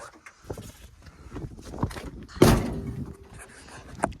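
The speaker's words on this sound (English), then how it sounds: "Ugh, this door." A 1973 Plymouth Satellite's car door is worked open, with scattered clicks and handle rattles building to one loud metallic clunk, followed by lighter knocks and a final clack, all close by.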